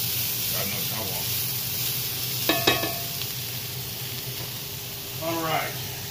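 Thick bacon frying in an American skillet, a steady broadband sizzle hissing throughout, close and fairly loud, with brief voices and a few clinks over it.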